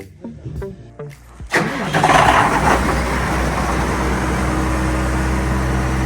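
A John Deere 6910 tractor, a 140 hp machine fitted with a loader, cranks briefly and then its diesel engine catches and settles into a loud, steady, rumbling idle close by.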